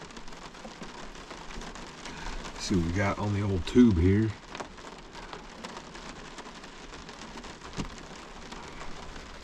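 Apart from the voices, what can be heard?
heavy rain pouring outside truck camper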